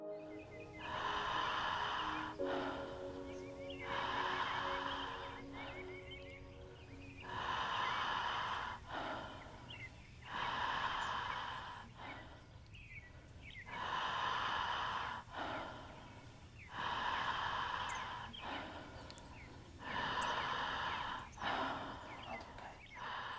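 A group in a breathwork session breathes deeply in a steady rhythm. Loud inhale and exhale cycles repeat every couple of seconds for over twenty seconds, with raspy, gasping textures and no talk.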